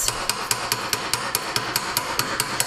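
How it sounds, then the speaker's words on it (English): A hammer taps lightly on a metal ring held on a ring mandrel, about a dozen crisp, even strikes in a steady rhythm, close and clear with nothing else over them. "So I just go and work my way around the ring mandrel. And I'm just very, very, very gently tapping on this"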